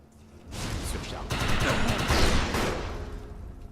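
A rapid stream of gunfire from a Defiance video game weapon boosted by the overcharge power, shooting at a hologram target; the sustained burst runs loud and close for a few seconds.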